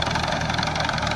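A Ford 8N tractor engine runs steadily with a sickle bar mower attached, a loud, continuous low idling rumble with a mechanical knock, close by and with no talk.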